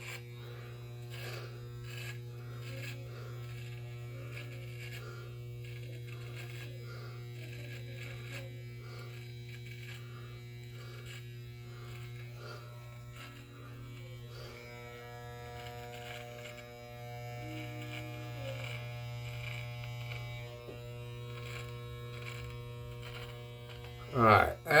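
Electric hair clippers trim a beard and mustache with a steady, close buzz and hum that runs unbroken throughout, ending in a brief louder knock or clatter.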